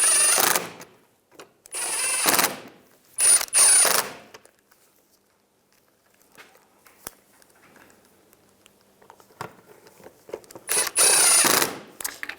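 Ratchet clicking in short bursts while tightening screws on a 2010-2017 Chevy Equinox windshield washer pump, close and fairly loud, with quiet pauses between runs.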